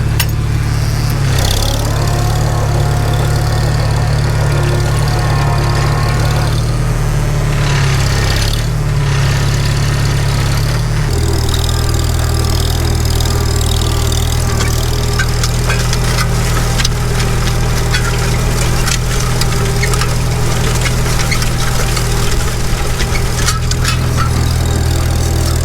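Vintage IH Super M farm tractor engine running loud and steady in a field, a deep continuous low rumble with a brief dip around ten seconds, then clattering mechanical noise layered on top.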